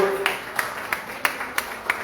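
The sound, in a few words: church congregation applause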